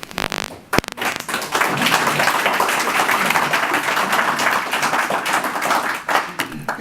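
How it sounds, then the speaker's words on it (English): Audience applause fills a morning gathering at a Friends' Day event, a dense, steady clapping of many hands that holds for several seconds after a brief louder burst at the start. "You clap now."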